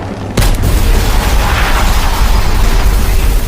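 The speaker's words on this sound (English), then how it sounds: "A fiery explosion completely toppled her vehicle" A sudden loud boom erupts, then a sustained heavy roar and rumble carries on to the end, dense and close.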